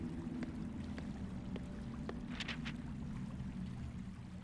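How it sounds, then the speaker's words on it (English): Underground river in The Warlock of Firetop Mountain video game, a steady low wash of flowing water that runs unbroken throughout, with a few faint knocks and splashes on top. "ahead you can hear water flowing"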